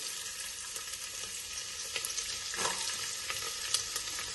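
Onions frying in ghee and a little oil for mint rice, a steady bright crackling sizzle with occasional stirring scrapes, close and continuous with no voices.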